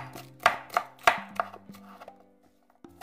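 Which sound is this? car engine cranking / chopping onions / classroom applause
chopping onions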